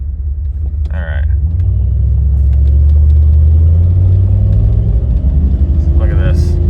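A Jeep's engine rumbles and revs up heavily while driving as it struggles to shift gears. The deep, loud drone swells and holds steady close by.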